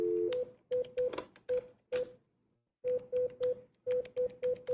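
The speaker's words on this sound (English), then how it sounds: "That's dialing of a phone" A telephone keypad dialing a number: a string of short, evenly spaced beeping tones in two quick bursts separated by a brief pause, clear and moderately loud.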